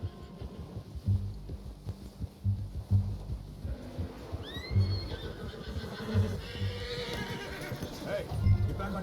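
A horse in a Western-style video game whinnies and snorts while its hooves clop in a steady, repeated rhythm close by, with low rumbling game ambience underneath.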